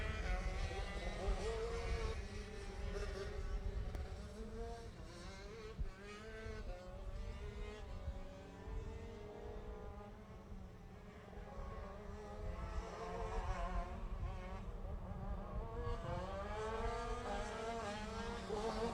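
Rotax shifter karts race around a track in Jupiter, Florida, their engines droning and whining continuously and loudly as the pack passes, with pitch rising and falling through gear changes.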